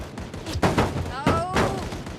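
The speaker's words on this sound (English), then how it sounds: "they're shooting at me already" Video game gunfire aimed at the player, a dense barrage of loud overlapping shots and bursts over engine rumble, with a voice talking over the action.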